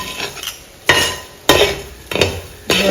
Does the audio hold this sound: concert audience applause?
no